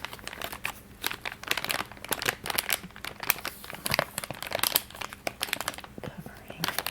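Thin plastic wrapping around a set of art paints crinkles and crackles continuously at close range, with dense irregular rustles and small tearing-like bursts throughout.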